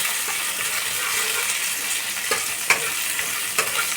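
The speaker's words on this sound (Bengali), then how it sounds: "আমি নিম পাতাটা সুন্দর করে ভেজে নিচ্ছি।" Neem leaves frying in oil in a pan over lowered heat for a bitter milk shukto, a steady close sizzle with a few brief clinks of stirring, no voices.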